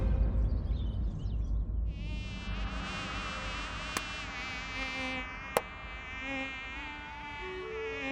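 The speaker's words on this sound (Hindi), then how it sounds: "मच्छर भीतर है, हमें भय लग रहा है" An indoor mosquito whines close and loud, its thin, high buzz rising in pitch and wavering steadily for several seconds, with two sharp clicks cutting through the drone.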